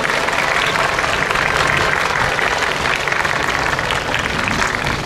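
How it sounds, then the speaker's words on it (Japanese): Crowd applause at a horse racing award ceremony at the Fairy Stakes, many people clapping steadily and loudly outdoors for several seconds. "今一度盛大な拍手をお願いいたします。"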